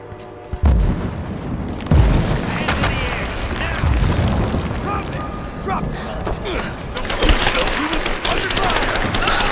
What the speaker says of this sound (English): We've got shots fired!